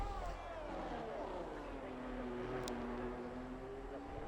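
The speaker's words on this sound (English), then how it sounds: "You can listen to these F1 engines roar around the Circuit Spa de" F1 engines on the Spa-Francorchamps circuit in a racing game, a steady droning whine that falls in pitch as it sweeps past, continuous and moderately loud.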